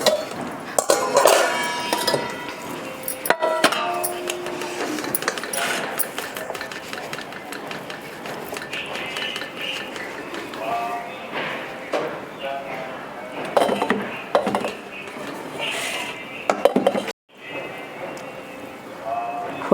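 Steel containers filled with rice flour dough for papad clink and knock as they go into a pressure cooker with water in it, giving scattered metallic bumps and scrapes under steady talking.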